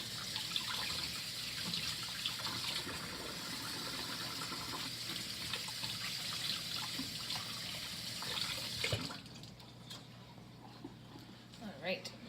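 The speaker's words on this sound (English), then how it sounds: "let me give my hands a wash" A kitchen tap pours a steady stream of water over hands being washed, close and continuous for most of the clip before the flow cuts off and a few small clinks follow.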